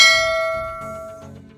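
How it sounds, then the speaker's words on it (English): A single bright bell ding rings out clearly, then decays with a long sustained tone over a soft low hum. "don't forget to click the subscribe button and hit the notification bell"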